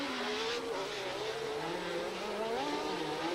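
Pack of 1980 Formula 1 cars at the Monaco Grand Prix start, several engines droning and revving together in a dense, continuous roar with shifting pitched whines, fairly loud and steady throughout.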